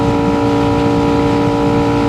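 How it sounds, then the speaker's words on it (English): Motorcycle engine on a night ride, running loud and steady with a continuous throaty drone as it downshifts, close up with no pause in the sound. "I just downshifted."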